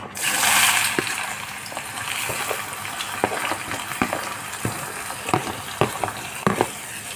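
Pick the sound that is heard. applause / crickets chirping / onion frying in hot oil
onion frying in hot oil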